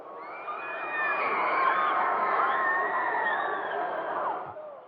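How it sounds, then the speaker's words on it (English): A large audience screams and cheers after Elvis leaves the building, a loud, sustained wall of shrieks and whoops that swells quickly and holds steady before easing off at the end. "Elvis has left the building, and then the people scream"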